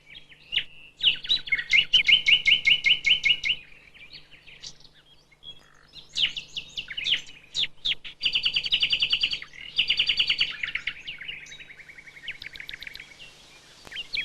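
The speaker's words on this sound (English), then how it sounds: "Especially one whose song is considered the most beautiful in the land, the nightingale." A nightingale sings in a woodland around an old oak, delivering loud, rapid bursts of trilling and chirping phrases separated by brief pauses, clear and close with no other voices.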